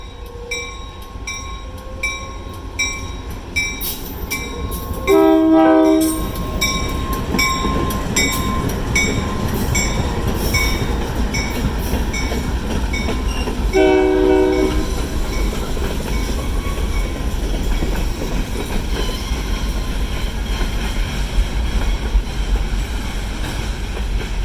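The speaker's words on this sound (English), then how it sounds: "Looks like we've got a real old engine here." A short train led by an old locomotive works slowly through a diamond crossing at a railroad park, with continuous loud rumble and clatter of wheels over the rails and two clear horn blasts, one early and one midway.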